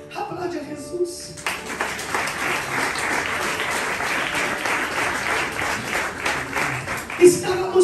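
Church congregation applauding for Jesus during a Sunday service, a dense, steady wash of many hands clapping that starts after a brief spoken moment and holds for several seconds, with voices faintly beneath.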